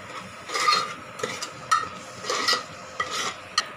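A spoon stirs turmeric and salt into a potato and tomato curry in a pot, making several short scraping and clinking strokes in an irregular rhythm, close and moderately quiet.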